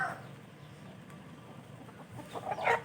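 Chickens kept as gamecocks give a few soft clucks near the end, over quiet outdoor background noise.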